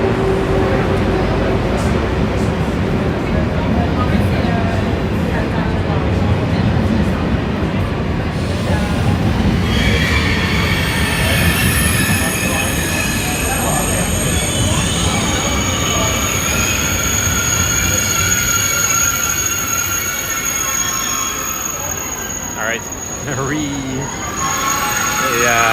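A passenger train pulls into a station in Amsterdam Noord, its brakes letting out a long, loud, high squeal over the rumble of the wheels, with a voice heard briefly beside it.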